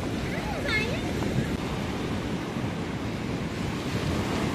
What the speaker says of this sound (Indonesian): Agak ngeri juga nanti kalau sampai ke sini ombaknya.